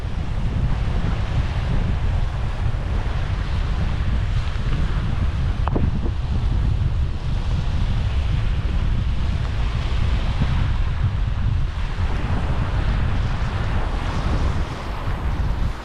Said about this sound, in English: Actually seems a lot windier in like the last 20 feet,